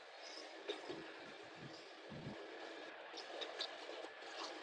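A steam train running through flower fields, heard faintly as a continuous broadband rumble and hiss from outside, with a few soft clunks and no clear talking.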